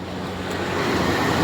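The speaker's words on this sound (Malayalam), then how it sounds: "വെള്ളം മുഴുവനും പോകുന്നു" Water gushes from a burst pipe in a broad, steady rushing roar, loud and close, swelling slightly as it continues.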